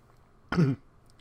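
One short, rough throat clearing, close by, stands alone against a quiet background.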